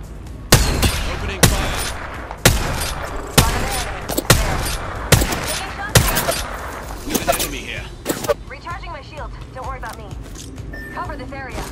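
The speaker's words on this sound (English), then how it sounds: "Opening fire." Gunfire in the video game Apex Legends: repeated loud, sharp shots in bursts and single cracks over about ten seconds, with quieter game sounds between them.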